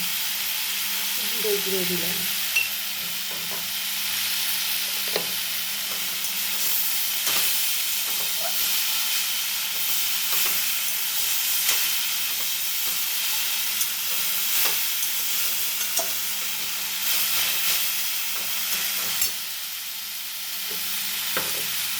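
Cumin seeds sizzle steadily in hot oil with drumstick leaves in a home kitchen, a continuous close hiss with occasional soft stirring clicks throughout.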